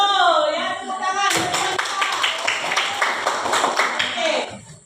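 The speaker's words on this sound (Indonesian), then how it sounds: "Tepuk tangan." A classroom group claps hands together in a quick burst of rhythmic, crisp claps after a teacher's voice speaks briefly at the start.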